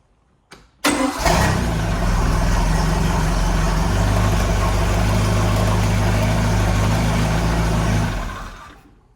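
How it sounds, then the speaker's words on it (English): A Volvo Penta 3.0 engine on a 2008 Stingray open bow boat cranks briefly, catches and settles into a loud, steady, close idle that runs for several seconds before cutting off, with no talk. "If I start the engine here,"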